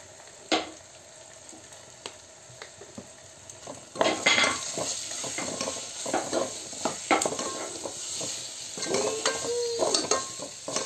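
Spices, including garam masala, turmeric and coriander powder, being stirred in a cooking pot: a soft steady sizzle with repeated scraping strokes that grow busier and louder partway through, and no talk.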